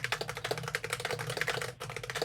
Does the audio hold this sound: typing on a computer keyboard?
yes